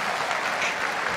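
Audience applause at a church service, a dense, steady burst of many hands clapping together, loud and continuous for a short moment with no talking over it.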